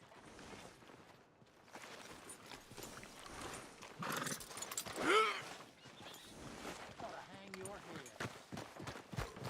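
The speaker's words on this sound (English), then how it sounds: "Are you gonna mount that new horse of yours or not?" Horse hooves clip-clopping in Red Dead Redemption 2, with a clear whinny near the middle, heard under and between spoken voices.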